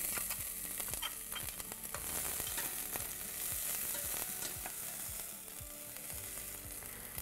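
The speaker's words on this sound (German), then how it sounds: "Dann habe ich hier Zwiebeln fein gewürfelt und die brate ich jetzt für ungefähr 3 Minuten." Finely diced onions frying in olive oil in a large pot, a continuous bright sizzle with frequent small crackles and occasional stirring scrapes, fairly quiet and steady throughout.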